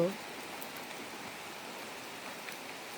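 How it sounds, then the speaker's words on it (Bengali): Steady rain patters on surfaces with scattered drips, a soft continuous hiss at moderate level and no talking. "বৃষ্টির টপ টপ শব্দ"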